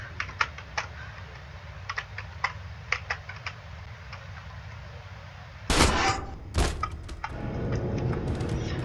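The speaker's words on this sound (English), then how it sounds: "let's just start off with your ordinary pistol. We're just gonna shoot him." Pistol shots in the video game People Playground, a couple of sharp loud cracks in the middle amid a scattering of light clicking taps, close and without talk.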